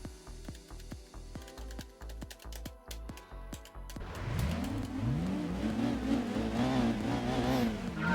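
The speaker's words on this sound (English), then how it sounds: "Sounds like the Mitsubishi Mirage." A Mitsubishi Mirage engine in the video game Gran Turismo 2 revs up strongly after a run of rapid clicking, holding a loud, steady drone with rising and falling pitch sweeps.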